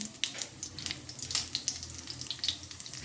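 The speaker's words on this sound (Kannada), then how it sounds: "ಕರಿಬೇವು ಒಣಮೆಣಸು ಚೆನ್ನಾಗಿ ಫ್ರೈ ಮಾಡೋಣ" Mustard seeds, garlic, curry leaves and dried chillies frying in hot oil for a Mangalore-style chicken dish, a close steady sizzle with sharp crackles and pops scattered throughout.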